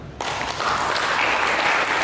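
A church congregation breaks into applause during a sermon, a sudden dense wash of clapping that swells and holds, filling the hall.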